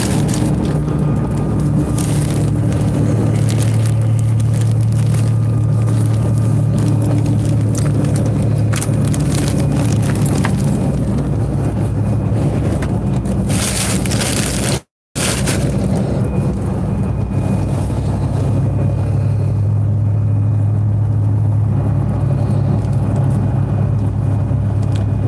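Inside a Greyhound bus heading to Los Angeles, seated in the last back row: a steady, loud engine and road drone with humming tones, wind noise and a brief dropout partway through, with no voices.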